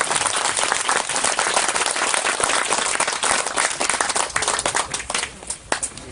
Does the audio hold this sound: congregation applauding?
yes